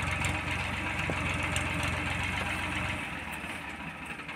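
Powertrac 445 tractor engine idling nearby with a steady low, knocking diesel rumble that drops slightly in level after about three seconds, with no talk over it.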